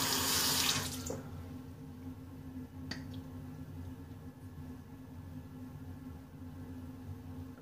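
Water runs from a tap into a sink for about a second, then cuts off, leaving a quiet room with a low hum and a couple of faint clicks.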